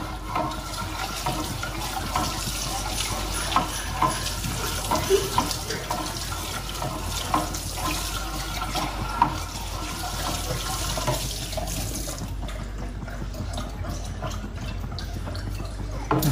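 Tap water runs steadily into a sink while corn is rinsed for making corn milk, a continuous splashing hiss with small clinks, easing off near the end.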